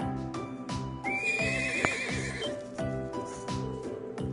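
A wild horse from the Nord Highlands in the Trails of Cold Steel video game lets out a loud, shrill whinny over a steady, rhythmic clip-clop of hooves on hard ground.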